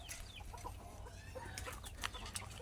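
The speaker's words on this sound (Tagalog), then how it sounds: "ito yung isang manok natin" Farmyard chickens cluck softly in short scattered calls over a low background hum, fairly faint and distant-sounding, with no one speaking.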